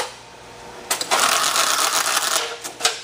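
A case sealing machine at a distillery closes a packed case of bottles, starting with a sudden burst of dense rattling and whirring that runs steadily, with a few sharp clacks near the end.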